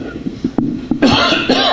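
Several short coughs and throat-clearing sounds from people in an audience at a radio DX contest gathering, close and fairly loud, coming in scattered bursts.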